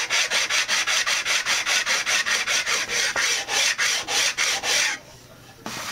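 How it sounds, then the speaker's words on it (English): Sanding the wooden top of a bongo cajon kit by hand makes steady, rhythmic rasping strokes, about three or four per second, loud and close. The strokes stop near the end, leaving quiet. "so that's how you sand the top of this level"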